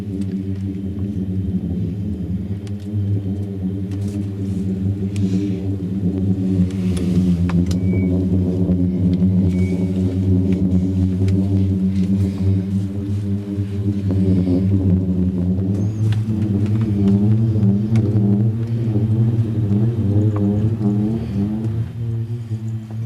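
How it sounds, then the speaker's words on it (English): A booming sand dune in Namibia gives a deep, steady droning hum with layered low harmonics, sustained and loud for the whole stretch, wavering slightly in pitch; voices murmur faintly at times. "That's the sound of the dune."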